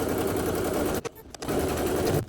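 An in-the-hoop embroidery machine runs a placement stitch in a dense, rapid, steady mechanical chatter up close, with two brief pauses before the stitching resumes.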